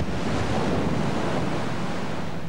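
Steady, loud ocean surf rolling and washing continuously with a broadband roar and some wind noise, no voices present.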